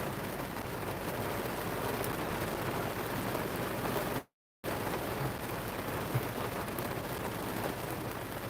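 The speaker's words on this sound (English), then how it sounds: "it's about what we're going to have until this rain moves off to the east" Steady heavy rain pours down during a strong Pennsylvania storm, a dense continuous hiss that drops out briefly midway before resuming just as loud.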